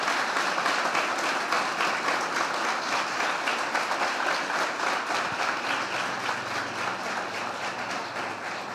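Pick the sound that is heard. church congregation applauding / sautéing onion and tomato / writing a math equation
church congregation applauding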